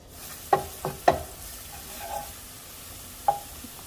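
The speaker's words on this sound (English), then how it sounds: "Preheated pan, olive oil, and with a little bit of diced onion, pinch of salt" Diced onion with a pinch of salt fries in olive oil in a preheated pan, giving a faint, soft sizzle broken by a few sharp utensil taps.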